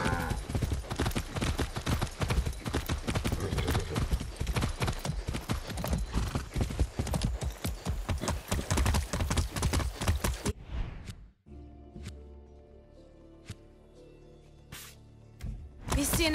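Steady clip-clop of horse hooves in the video game Far Cry 6, fast and rhythmic, filling the first ten seconds, then a quieter stretch with a few scattered clops and soft background tones.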